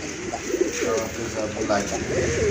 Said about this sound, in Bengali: খুবই সুন্দর এক জোড়া শার্টিন কবুতর একেবারে কোয়ালিটিফুল কবুতর